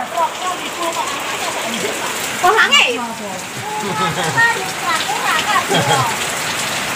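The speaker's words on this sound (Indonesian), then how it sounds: "bersamaan dengan air hujan dan angin gede guys" Heavy rain pours steadily with gusting wind, a dense continuous hiss close by, while people talk over it in a few short remarks.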